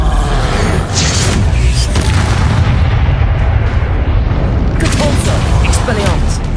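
Bombarda spell blasts in the video game Hogwarts Legacy make a loud, continuous barrage of booming explosions that barely lets up, with voices mixed into the din.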